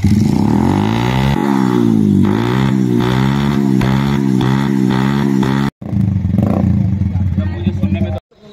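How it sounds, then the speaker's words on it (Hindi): Bajaj Caliber 115 motorcycle fitted with an SC projector silencer, its exhaust revving up and down in loud, close bursts for several seconds with a brief cut and short break before it resumes. "तो आइए इसका एग्जॉस्ट का पहले साउंड सुनते हैं"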